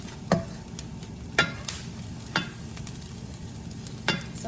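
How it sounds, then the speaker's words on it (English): Vegetables sautéing in a pan for franks and beans, giving a soft steady sizzle with a few sharp pops and ticks spaced through it. "Some of them are starting to pop, which is what I read the saute was supposed to be."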